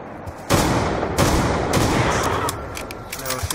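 Rapid automatic gunfire from the Call of Duty: Black Ops 2 Zombies Buried map, loud, dense bursts that restart several times across the clip with no talking.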